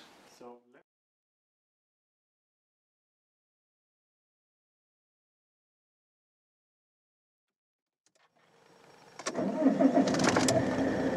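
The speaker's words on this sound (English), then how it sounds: "So let's move out the convertible and get some heat to the oil in the Griffin and pull it in" A Saab convertible's engine starts after a long silence, then idles and begins moving out, a loud mid-pitched rumble building at the end, preceded by a brief voice.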